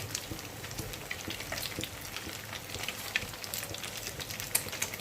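Fish frying and spitting oil in a pan for a fish sandwich, a continuous crackling sizzle with sharp popping spatters scattered throughout, fairly close and with no talking.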